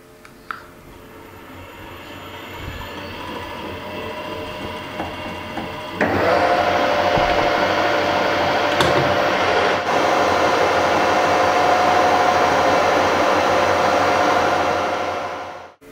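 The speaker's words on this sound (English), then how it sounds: "I'm just going to machine everything on here" A machine tool cuts a taper while remachining an INT30 mill adaptor, a steady whirring hum that rises sharply in loudness midway and holds as a continuous close cutting drone before stopping.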